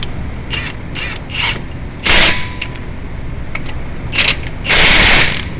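A ratchet spins a bolt in on a 2007 Ford Focus, giving several quick bursts of clicking pawl, some short and some longer, loud and close with no talk.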